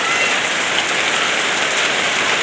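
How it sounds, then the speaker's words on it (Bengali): Steady rain pours down after a hot, sunny day, a dense even hiss of drops striking surfaces, loud and close throughout with no pauses. "অবশেষে রহমতের বৃষ্টি"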